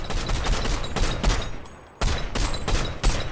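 Rapid bursts of automatic gunfire in a shooter video game crack loudly and close, a steady volley that pauses briefly before resuming, with no talking.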